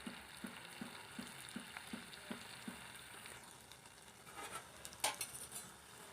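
Soy kebab mixture frying in hot oil, with a soft continuous sizzle and a run of evenly spaced light taps, then a few sharper crackles and spatters toward the end; fairly quiet and close, with no talking.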